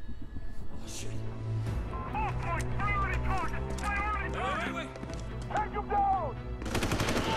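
Bursts of gunfire in Prototype 2, with rapid rattling shots mixed with loud game effects and someone talking excitedly over the action.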